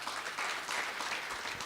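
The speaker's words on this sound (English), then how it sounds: "I think we can again give him a very loud of applause." An audience at a memorial lecture applauds in a short, dense burst of clapping that stays steady and fairly faint throughout.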